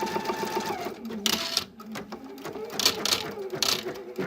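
An embroidery machine fitted with a ribbon embroidery attachment starts up and stitches with rapid mechanical chattering and clicking in short bursts, close by, while someone talks over it.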